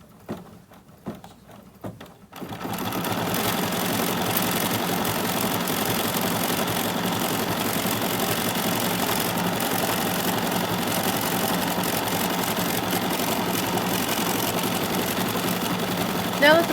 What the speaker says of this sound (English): I'm now going to run my finishing stitches so that the block will be finished.